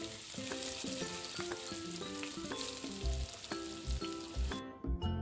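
Slices of ridge gourd and drumstick fry in hot oil with a steady, dense sizzle, broken near the end by a few low thumps as the pan is stirred.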